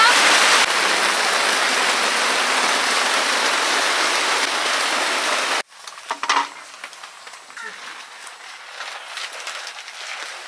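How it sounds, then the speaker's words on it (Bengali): Heavy rain pours down in a loud, steady, dense hiss for about five seconds, then cuts abruptly to a much quieter scene with a few scattered clatters and soft background noise. "বৃষ্টি এসে গেছে, ওদি বিরাট বৃষ্টি এসে গেছে।"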